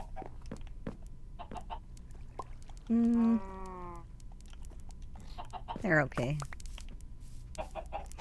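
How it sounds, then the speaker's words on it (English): Chickens in the game Minecraft give a short burst of chirpy clucking, then a louder rising squawk a few seconds later. A person talks casually before and around the clucks. "I'm gonna see how many chickens are in here now."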